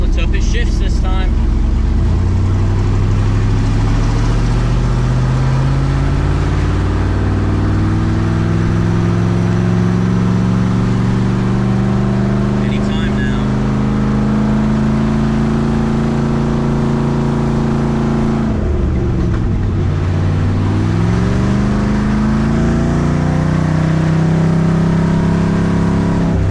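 A 1,000 hp twin-turbo El Camino accelerating hard, loud engine climbing in pitch, then a shift with a brief dip and a second climb through the next gear.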